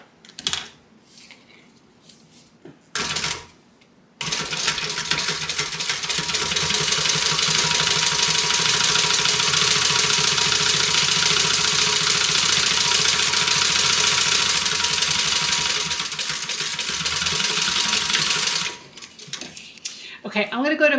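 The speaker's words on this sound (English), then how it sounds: "And now we're going to sew 1/4 of an inch from the raw edge." A sewing machine runs steadily for about fourteen seconds, stitching a quarter-inch seam along the raw edge of a tote bag, framed by brief handling clatter and quiet before and after.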